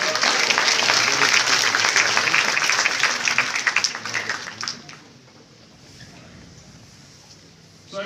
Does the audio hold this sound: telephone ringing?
no